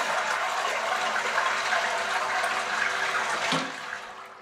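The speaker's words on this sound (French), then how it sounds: "Je vide d'abord la chasse d'eau." A toilet cistern is flushed and drains, a loud steady rush of water that runs continuously and then tapers off as the tank empties.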